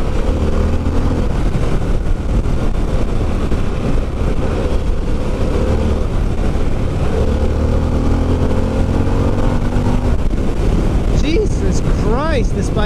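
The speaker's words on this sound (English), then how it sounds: "this bike is fast" Harley-Davidson Pan America adventure motorcycle ridden fast, its engine droning steadily under heavy wind buffeting with a few rising revs near the end.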